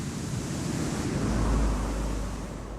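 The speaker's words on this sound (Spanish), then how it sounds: "Principal responsable de la braveza del mar en esta zona es el fuerte viento que sopla de forma casi constante." Strong, nearly constant wind over rough sea surf on the Chilean coast near a lighthouse: a loud, continuous broadband roar of gusting wind and crashing waves with a deep low rumble swelling midway, no voices.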